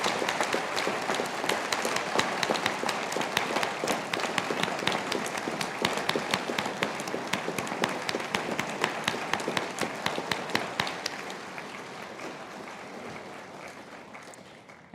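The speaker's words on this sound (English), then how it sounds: "give our graduates a huge round of applause" Sustained applause from a large audience at a Charles Sturt University graduation ceremony, dense clapping that holds steady for about eleven seconds and then thins and fades toward the end.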